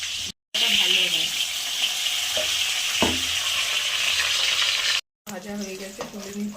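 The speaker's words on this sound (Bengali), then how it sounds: "এবার লবণ হলুদ মাখিয়ে ভেজে নেবো বেগুনগুলো" Salted, turmeric-coated eggplant pieces fry in hot oil with a steady, close sizzle and crackle, with a few soft stirring knocks and short breaks.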